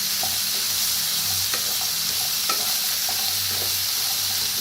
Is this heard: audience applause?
no